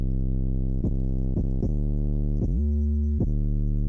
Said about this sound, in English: This is what the 808 sounds like here with my processing.